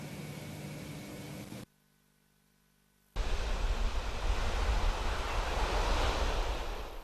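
Sea waves at Watu Klotok beach wash over the shoreline in a steady broadband roar, loud and close, broken by a short gap of near silence before the surf resumes.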